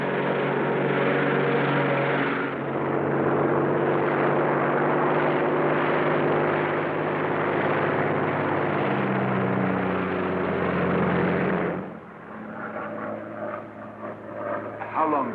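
A Royal Air Force propeller plane in flight, a steady loud engine drone that holds for several seconds before easing, with people talking over it.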